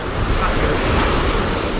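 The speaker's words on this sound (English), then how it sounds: "But yeah, look at these waves." Ocean waves wash onto the shore in a steady, loud roar of surf, with wind buffeting the microphone throughout and no voices.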